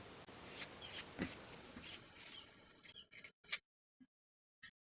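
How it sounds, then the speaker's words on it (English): Scissors or pinking shears snip into the curved seam allowance of a sewing project's fabric pieces, giving a run of crisp close cuts that thin out into a few sparse, isolated snips. "Trim this seam allowance and clip into the curves using scissors or pinking shears."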